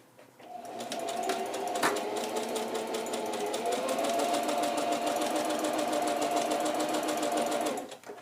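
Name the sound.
sewing machine stitching fabric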